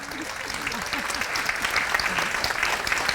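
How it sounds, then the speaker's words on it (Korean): A conservative conference crowd in a hall gives a burst of continuous applause, even and fairly loud, while a voice speaks faintly underneath. "박수 쳐주셔야 돼요"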